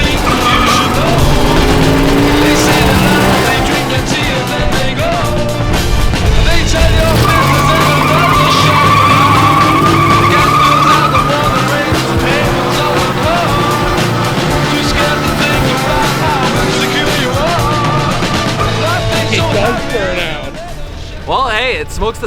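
An old Ford Thunderbird, revived after sitting for years, roaring loudly through a tire-smoking burnout with steady engine drone and squealing tires, sustained throughout and close, under constant talk.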